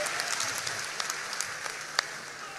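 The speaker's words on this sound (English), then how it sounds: "A round of applause for him." Audience applause at a political address in Ghana, a steady wash of many hands clapping at moderate distance with a few sharper individual claps standing out, no voices over it.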